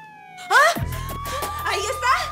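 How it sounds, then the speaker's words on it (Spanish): An ambulance siren wails in with rising and falling tones, loud and near, while a person cries out over it in a dramatic scene. "¡Ahí está! ¡La ambulancia!"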